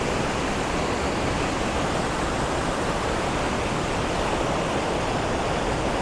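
Waterfall on Tokul Creek in Washington, a continuous, loud broadband roar of falling water, steady and unbroken from start to finish with no voices.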